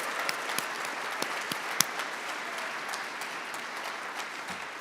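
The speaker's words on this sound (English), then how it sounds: "one more round of applause for all of the wives out there, spouses" Sustained applause from a banquet crowd honoring the spouses of PGA golf professionals at a Georgia PGA awards dinner, steady clapping throughout with a few sharper individual claps standing out.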